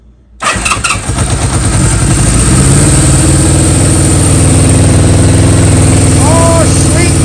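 A Honda CB550 motorcycle under restoration cranks and fires up suddenly, then settles into a loud, steady idle close by, with a voice briefly heard over it.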